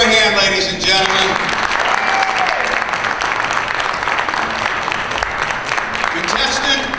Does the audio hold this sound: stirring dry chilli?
no